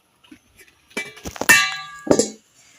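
A metal lid comes off a pan of chickpeas roasting with Eno, giving a few sharp, close metallic clangs and clinks in quick succession, with near silence before and after.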